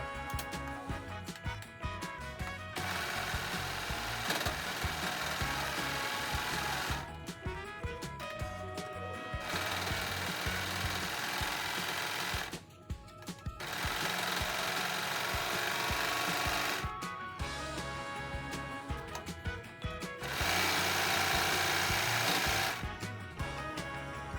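A Babylock Accolade serger sews fabric in several long runs of fast, even mechanical whirring and stitching clatter, separated by short pauses, close and steady.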